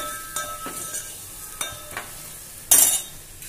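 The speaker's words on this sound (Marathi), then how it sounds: "जरा मिरची थोडी परतली ना, परतायची थोडी मिरची" Green chillies fry in oil with asafoetida for a Maharashtrian buttermilk kadhi. A soft sizzle sits under repeated close stirring scrapes and clinks of a spoon against the pan, with one louder scrape near the end.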